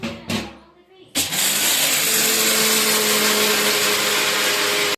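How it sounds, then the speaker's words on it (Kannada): A kitchen mixer grinder whirs loudly and steadily after a brief start, a dense continuous electric motor roar with blade grinding that runs to the end, preceded by a couple of short bursts and quieter household noise. "ಮಿಕ್ಸಿ ಸೌಂಡ್ ಇಡೀ ಹುಬ್ಳಿ ದೇಶ ಕರ್ನಾಟಕನ ಕೇಳ್ತೈತಿ"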